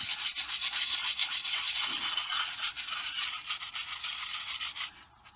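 An axe edge being rubbed on the coarse side of a sharpening stone, a quiet, steady rasping scrape with a rhythmic back-and-forth pulse.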